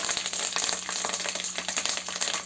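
Spices, dried red chillies and curry leaves crackle in hot oil for a tempering, a steady close sizzle with fine popping textures throughout.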